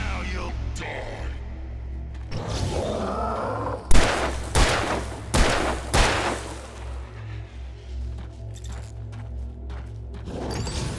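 Gunshots in the Alan Wake video game ring out as a few loud, separated cracks in the middle of the stretch, over a low droning background.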